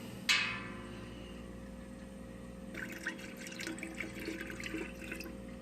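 Homebrewed helles lager pours into a keg with a steady, close liquid splash and gurgle that picks up partway through, following a sharp clink at the start, over a constant low hum.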